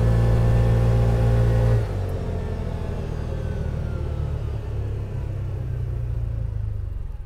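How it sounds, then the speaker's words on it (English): Race car engine on a hot lap at Genk, a loud deep engine drone that drops sharply as the car brakes hard for the last hairpin in third gear, then steadies into a lower rumble. "And then hard braking again for the last hairpin in third gear."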